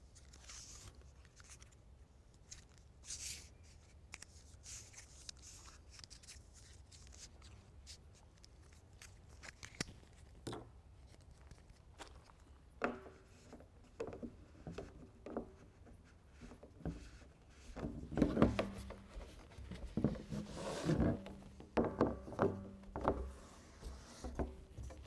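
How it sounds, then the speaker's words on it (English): Teflon tape being wrapped around pipe threads and a barrel cap being tightened on a rainwater catchment barrel: faint scattered rubbing, crinkling and clicking handling sounds that grow busier and louder toward the end, with no voices. "I'm going to do the same thing with the pipe thread tape, also known as Teflon tape."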